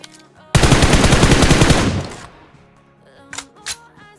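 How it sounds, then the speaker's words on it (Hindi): Loud burst of rapid automatic gunfire in a solo-versus-squad battle royale video game, one sustained volley of about one and a half seconds that then dies away, followed by a couple of fainter distant shots. "वहाँ से गन साउंड आने लगते"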